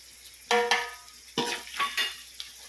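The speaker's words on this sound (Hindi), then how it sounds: "चलाएंगे अच्छी तरह से, सारे इसमें मिक्स हो जाए" A spoon stirs powdered spices into vegetable khichdi in a pot, making a few short, close scraping and clinking strokes with brief pauses between them and no voices.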